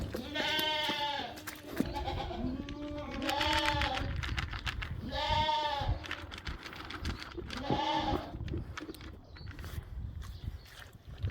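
A Wiltshire ram lamb bleats four times in close succession, each cry loud and quavering, heard up close over rustling and footsteps.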